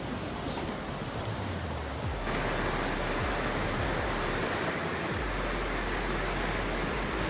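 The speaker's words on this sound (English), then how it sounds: "we woke up to this river" River flowing through the Olympic National Forest beside a campsite, a dense continuous roar of water, loud and steady throughout with no speech.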